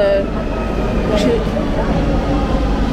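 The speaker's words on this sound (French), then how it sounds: "Ah, c'est notre métro. Et il est bondé." A crowded metro train rumbles steadily and loudly throughout, with a dense, continuous roar and a murmur of passengers' voices underneath.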